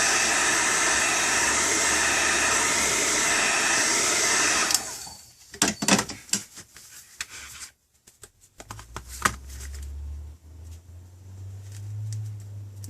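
A heat gun or hair dryer blows steadily while heating the screen of a Samsung Galaxy Tab SCH-I800 7-inch tablet, a loud whooshing roar that cuts off after about five seconds, followed by scattered clicks and handling noises.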